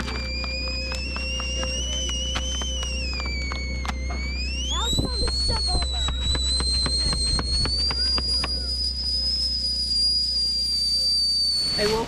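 A kettle whistles on a rocket stove at an off-grid cabin, a steady, clear tone that rises in pitch and holds for the whole stretch over a constant low background hum.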